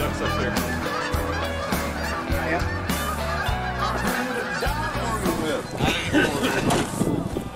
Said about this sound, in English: these are just some of the birds coming out